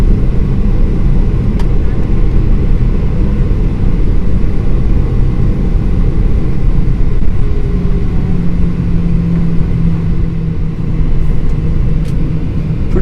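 A large passenger airplane taxiing on the runway, heard from inside the cabin as a loud, steady low engine rumble with a faint rising whine, continuous throughout.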